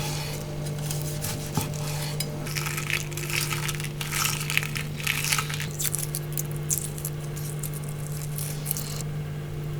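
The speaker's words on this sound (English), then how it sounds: "we're then gonna cut it in nice thin strips on an angle, ready to serve" A knife slicing seared steak into thin angled strips on a board for ramen, close clattering and crunchy cutting scrapes over a steady kitchen hum, with no voices.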